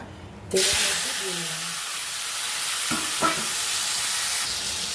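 Chopped tomato drops into a pan of hot vegetable curry, setting off a sudden loud sizzle that settles into steady frying hiss with brief stirring clatters, close by.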